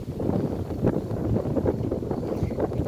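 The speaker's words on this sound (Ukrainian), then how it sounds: "Вітер такий сьогодні." Wind rushes and buffets loudly against the microphone in uneven gusts, with no voices.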